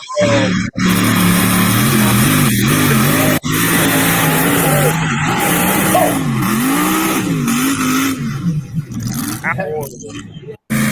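A pulling truck called Locomotion roars at a truck pull event, its engine revving loud and wavering as tires grind, heard from playback with voices talking over it.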